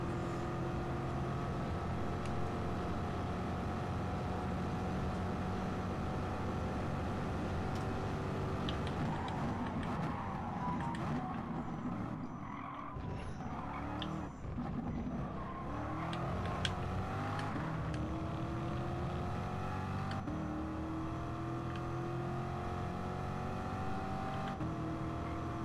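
Bugatti Veyron and Corvette race cars roar around the Parabolica in GT Sport, with overlapping engine notes droning loudly and steadily, pitch sweeping up and down as they brake and accelerate onto the straights.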